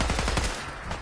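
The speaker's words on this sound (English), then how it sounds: "This is actually the first time I've used this assault rifle." Assault rifle bursts in Fallout 4, a rapid run of sharp automatic shots for about half a second, then fading echoes and quieter game ambience, with no voices.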